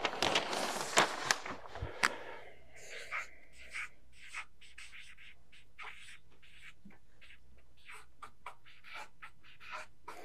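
A pen scratches across paper in short, faint strokes, louder and denser at first and then thinning into sparse, quiet scribbles in a calm room.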